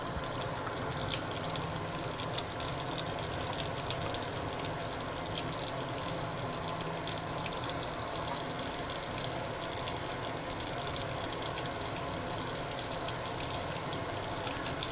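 Hands being scrubbed under a running tap with palm, rotary and interlacing strokes, a steady broadband rush of water filling the whole stretch with no voices.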